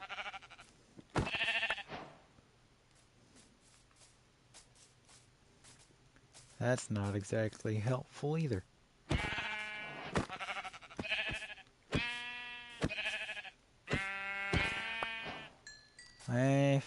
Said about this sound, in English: I just need one more sheep.